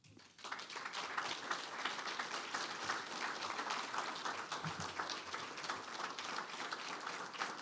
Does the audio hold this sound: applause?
yes